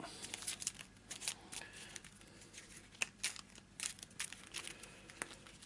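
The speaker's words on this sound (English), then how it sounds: "A quick rubbish shuffle." A deck of asset cards from the Eldritch Horror board game gets a quick, rough shuffle, heard as faint, close papery riffles and crinkling bursts in an uneven rhythm.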